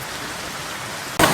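Steady rain falls in a hiss that stays fairly loud and even, then swells sharply louder right at the end.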